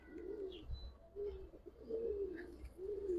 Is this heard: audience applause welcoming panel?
no